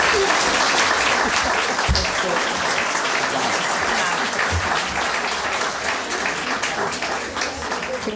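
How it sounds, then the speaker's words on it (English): Dense, sustained applause from an audience at a League of Women Voters candidate forum for commissioner candidates, steady and full for about eight seconds with a faint voice or two underneath. "Now it's time to applaud."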